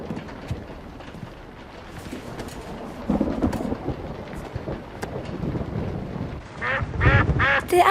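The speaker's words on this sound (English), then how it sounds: "Did Uncle Hank order a duck? Because there's one in the mailbox" Cartoon duck quacks amid a thunderstorm with rumbling thunder and rain, the quacks bursting out loudly near the end over the steady storm noise.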